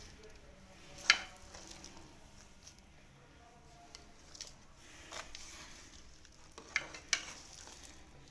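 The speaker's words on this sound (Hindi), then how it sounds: "ये सेब, ये केले भी मिक्स कर दें इसमें।" Apple and banana pieces being stirred into a creamy fruit chaat, a faint soft squishing with a few quiet spoon clinks against the bowl, near and otherwise hushed.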